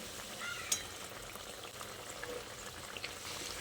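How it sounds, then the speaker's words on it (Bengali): Bata fish pieces being gently stirred in a pan of simmering curry gravy, a low bubbling, liquid hiss with a brief clink near the start, faint and close, no talking. "মাছগুলো দিয়ে এইভাবে হালকা হাতে একটু নেড়ে চেড়ে মিশিয়ে নিচ্ছি"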